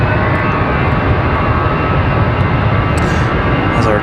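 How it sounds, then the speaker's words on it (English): A Delta Airbus A319 airliner taxies at Raleigh-Durham International Airport, its jet engines giving a loud, steady broadband roar that holds without a break. "As our Delta A319 gets a move on."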